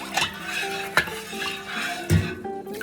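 Salt spooned into a pickle mixture for a sour Şanlıurfa-style pickle: three distinct clinks of a spoon against the container over a low background, with no talk.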